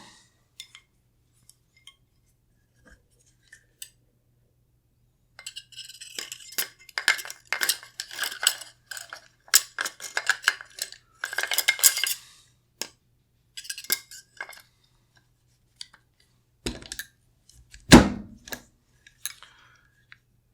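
Metal parts of a Windham Weaponry MCS rifle clink and rattle as the barrel is removed and swapped for a 300 Blackout barrel, scattered faint ticks building to a busy cluster of clicks, then a louder slide and clunk near the end.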